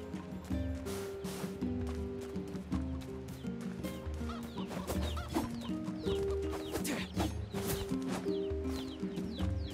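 Chicken clucking in the video game NieR Replicant, set against steady game music that fills the whole stretch, with short cluck-like bursts scattered through it.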